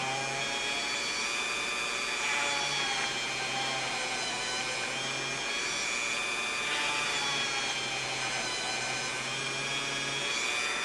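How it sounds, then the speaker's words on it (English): Steady high-pitched whine of a Dremel rotary tool with a small bit drilling stitching holes around a leather knife sheath, held close and continuous, with slight rises and dips as each hole is bored and no speech. "I'm just going through and just drilling each one of these out."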